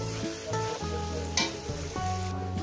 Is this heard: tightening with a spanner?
no